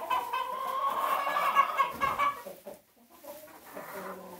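Homestead chickens cluck and squawk in a burst of agitation as two hens scuffle over pecking order and a rooster rushes in to break it up; the calls are close and busy, then thin out into scattered softer clucks.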